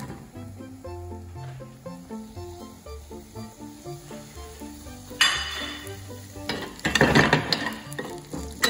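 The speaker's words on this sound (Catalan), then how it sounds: "I ara el que fem és tirar ja els rovellons" Saffron milk cap mushrooms drop into a pan of gently cooking garlic with a soft ongoing sizzle, then stirring and scraping bursts flare up louder midway, with clinks of a utensil against the pan.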